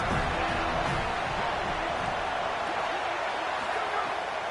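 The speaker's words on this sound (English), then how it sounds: "Listen to this crowd just shaking the girders of this place, trying to help their defense." A stadium crowd roars at a college football game, a dense, steady wall of noise that holds at full volume without a break.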